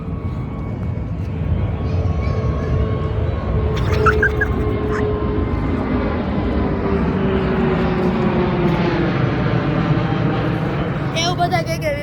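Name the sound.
airplane flying overhead near airport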